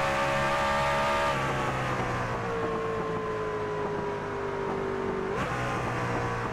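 Onboard roof-camera sound of a race truck under way, its engine droning loudly and steadily with a pitch drop that marks a gear shift, then climbing again as it accelerates, with no talk over it.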